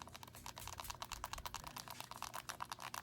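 Keys pressed on a Clicks Power Keyboard for a phone, a quiet, rapid run of small clicky taps close up, continuous typing with no talk.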